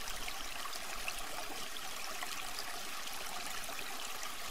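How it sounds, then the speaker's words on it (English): Steady flowing water, like a stream or trickle, running continuously and evenly at moderate loudness with no voices over it. "pay attention to the sound of the flowing water"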